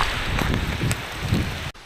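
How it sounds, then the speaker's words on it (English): Heavy rain roars continuously with gusty low rumbling in a storm with wind and lightning, ending abruptly in a sudden cutoff. "Lightning, wind, and really heavy rain."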